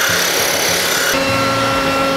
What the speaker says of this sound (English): a belt sander, but you gotta be careful not to create divots